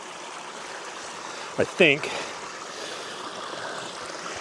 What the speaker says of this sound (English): it's a little bit cooler down here at the creek bed